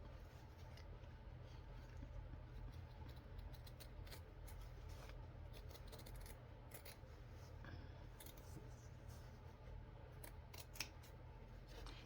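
Scissors snipping through fabric to cut out a piece for slow stitching, a quiet and continuous run of small cutting and rubbing sounds close by, with no talking.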